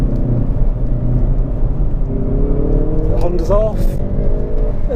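Hyundai i30 N or Golf GTI TCR pulling away in second gear on a race circuit, a loud, steady engine drone climbing in pitch as it accelerates, with someone talking over it.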